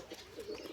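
A pigeon sitting on its eggs coos softly in a short, low, continuous murmur, fairly faint and close, with no one talking.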